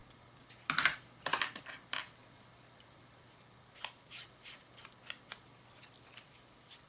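Scissors trimming overhanging paper at a craft table, two quick close snips followed after a pause by a rapid series of short crisp cuts.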